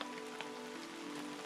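Steady rain patters on a surface along the Appalachian Trail, a dense continuous wash of drops with no voices, close and even throughout.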